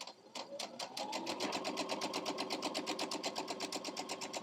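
Sewing machine stitching a quarter-inch seam on a quilt block, a rapid even run of needle strikes that starts slowly and settles into a steady close-up clatter, alone without talk.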